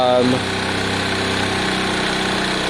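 A Zontes motorcycle engine idles steadily up close while warming up with the choke still on, a constant droning hum with a brief higher sound at the very start.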